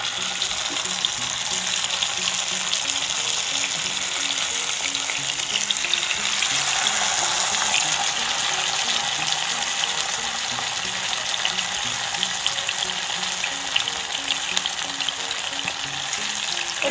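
Chicken pieces sizzle and fry in hot oil in a pan for Afghani chicken, a steady loud crackling hiss throughout with faint background clinks.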